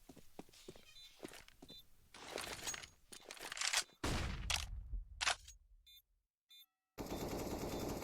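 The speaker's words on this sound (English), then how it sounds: "I think Perfecto's going to get 2 sets of footsteps heard by him." Counter-Strike match on the Overpass map, with a busy mix of in-game footsteps, gunfire bursts and thuds, loud and clustered, followed by a brief silence and a noisy wash at the end.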